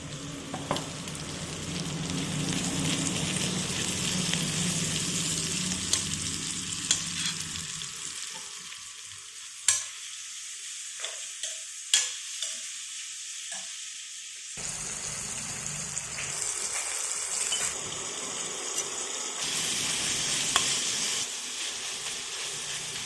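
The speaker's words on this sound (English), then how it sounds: "I'll put in little salt so the onions get fried easily." Steady sizzling of salted onions frying in a pan for chicken curry, with occasional clicks and scrapes as they are stirred; the sizzle thins briefly midway before returning.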